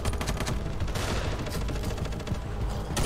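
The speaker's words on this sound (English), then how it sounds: "What I like about LMGs is you can definitely fire from the hip." Light machine gun fired from the hip in the video game Ravenfield, a loud, continuous burst of rapid automatic gunfire filling the whole stretch with no pauses, close and dense.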